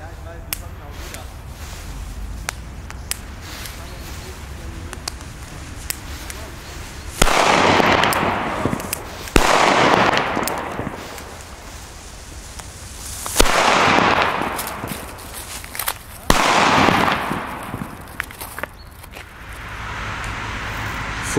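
Funke PENG 2 firecrackers from a premium German Böller mix going off outdoors, several loud sharp bangs at intervals, each trailing a crackling hiss, with steady low background noise between them.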